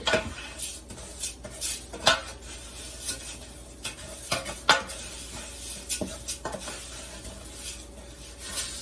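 A wooden spoon stirs onions in a soup pot, giving repeated scraping knocks against the pot with faint sizzling underneath, close and fairly quiet, with no talk.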